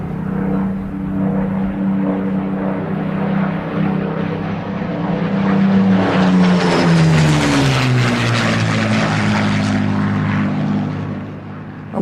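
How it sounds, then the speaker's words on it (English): Spitfire fighter aircraft over Malta in 1942, its piston engine droning loudly as it approaches and passes close overhead, the pitch sliding down as it goes by, then fading slightly. "came the reassuring sound of an aircraft that was more than a match for the German and Italian fighters"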